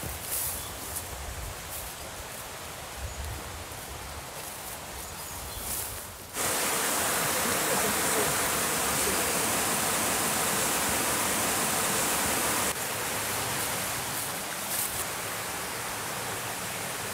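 A mountain stream rushes below a hiking trail near the Moulin d'Orc on the Montagne de Marcou, first as a softer wash, then suddenly much louder and closer as a dense, steady roar.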